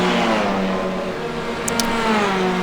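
A TCR touring car accelerating in the iRacing sim, with its engine note rising steadily in loud, close, harmonic-rich tones and a brief higher whine partway through.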